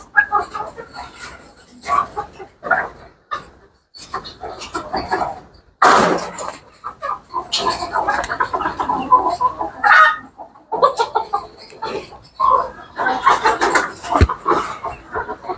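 Chickens on a poultry farm cluck and squawk close by in irregular bursts, with a louder outburst partway through and a steady mix of farmyard calls, while people talk intermittently over them.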